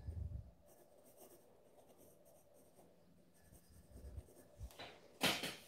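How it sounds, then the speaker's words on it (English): A pencil sketches lightly on watercolour paper in short, soft scratchy strokes, quiet and close, with small pauses between them and a louder rustle near the end. "So nice and light and sketchy with your pencil."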